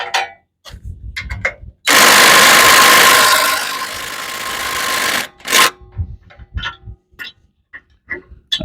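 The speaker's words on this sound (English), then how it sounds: "That one didn't want to come out with this impact." An impact wrench removes a nut from a YardMax log splitter, a loud sustained burst of hammering rattle lasting a few seconds, framed by short tool clanks and metallic handling knocks before and after.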